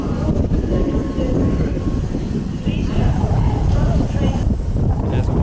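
A British Rail Class 319 electric train at Manchester Piccadilly gives a steady, loud rumble and rolling roar that runs unbroken through the whole clip, with a faint squeal partway through.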